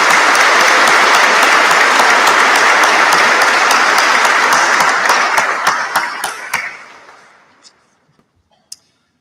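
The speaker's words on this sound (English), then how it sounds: "give a huge round of applause for the GMP band" A large audience at a Greater Manchester Police officers' welcome ceremony gives loud, sustained applause for the police band, a dense roar of clapping that thins into scattered individual claps and fades to near silence.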